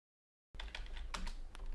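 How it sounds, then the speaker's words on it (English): Keys clack on a computer keyboard during an online tabletop roleplaying session, starting abruptly after a moment of silence and continuing as a quick, irregular run of close, faint taps. "I was typing in push to talk"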